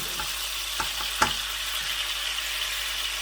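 Chicken pieces for chicken jalfrezi fry over a medium-high flame, giving a steady, dense sizzle with a few sharp clicks of stirring, close up and with no talking.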